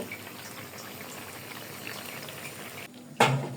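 A covered pot of bou bhaat, a khichuri-style rice dish made without turmeric, steaming on the stove gives a steady, faint simmering hiss. A brief louder clatter comes near the end.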